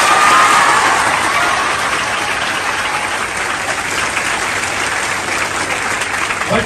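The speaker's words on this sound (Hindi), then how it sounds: "तालियां बजाइए।" A large crowd of students at a coaching class launch breaks into loud applause mixed with cheering, a dense, sustained roar of clapping that stays strong throughout with no one speaking.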